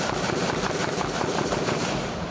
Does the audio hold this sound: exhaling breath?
no